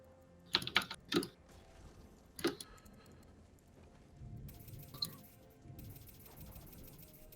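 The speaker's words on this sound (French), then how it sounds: "c'est juste parce que je testais si on entendait mon clavier" Several soft, irregular keyboard key clicks, a few close together near the start and another pair later, with quiet background hiss and no talking.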